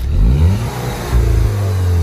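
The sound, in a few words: Volkswagen Golf 6 engine revving with aftermarket exhaust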